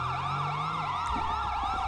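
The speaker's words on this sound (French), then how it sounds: "On veut pas de toi, la sirène." An ambulance siren in GTA V with the LSPDFR police mod wails in a fast rising-and-falling yelp, loud and near, over a low vehicle engine hum, with no talking.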